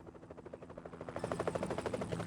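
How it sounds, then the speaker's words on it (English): A helicopter in the Evil Genius video game gives off a faint, rhythmic rotor chop that pulses steadily and grows slightly louder, with no voices over it. "Is that a helicopter sound?"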